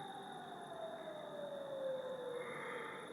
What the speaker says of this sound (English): The air raid sirens are going off here in Kharkiv